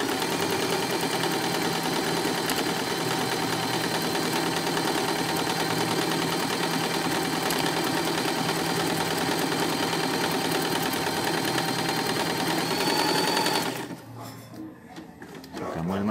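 A sewing machine stitching stretchy lycra fabric hums in a dense, constant mechanical whir with the needle rising and falling rapidly, close and steady for about fourteen seconds before it suddenly stops.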